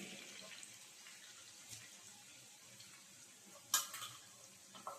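Onions for kachi biryani frying in hot oil, a faint, steady hiss with a sharp clink near the end and a few soft scrapes, quiet and close, with no voices.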